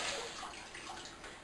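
Lukewarm water poured from a cup to rinse a cat during a bath, a steady close splashing and sloshing stream with no talk.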